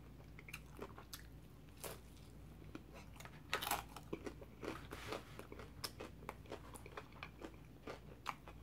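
Close, crisp crunching and biting, irregular bites and chews of crunchy Long John Silver's fried fish and chips with small crackles, no talking.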